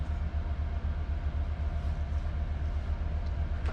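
Steady low rumble of a short-haul regional train running from Johanngeorgenstadt to Karlovy Vary, with constant rolling noise and a faint rhythmic clatter, close and continuous with no voices.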